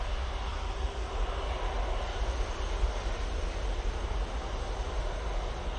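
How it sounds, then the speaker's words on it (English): Steady, continuous roar of an easyJet airliner's jet engines at Manchester Airport, heard alone with no talk and holding an even loudness throughout. "Easyjet coming on next."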